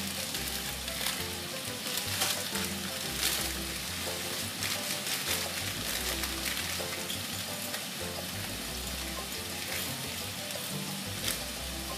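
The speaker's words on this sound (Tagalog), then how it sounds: "So, kumukulo na yung ating water." Water bubbles and sizzles steadily as it boils in a pot on the stove, a continuous crackling hiss with a low rumble underneath.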